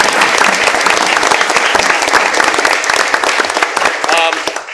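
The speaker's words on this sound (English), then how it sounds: "So big round of applause for those people." Sustained applause from an audience at a school board meeting honoring supporters of a soccer team: dense, steady clapping that fills the room throughout, with a few voices rising near the end.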